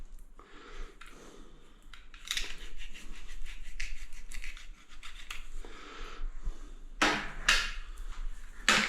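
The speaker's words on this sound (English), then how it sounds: "you cut it just below that metal and sometimes it doesn't want to cut nicely" Close cutting of a molded material, likely silicone or polyurethane, just below a metal part, heard as repeated scissor-like snips and scratchy rasps with a louder burst of cuts near the end.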